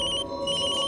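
A phone ringtone plays steadily and close, a bright electronic tone with no voices.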